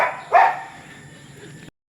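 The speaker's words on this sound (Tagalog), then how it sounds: "Ang ingay talaga ng aso." A single loud dog bark up close, followed by a fading echo and quiet room tone before cutting to silence.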